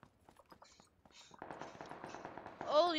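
Rapid gunfire in the battle royale game PUBG, a quick, faint series of cracking shots that builds into a denser volley, with a voice speaking over it near the end.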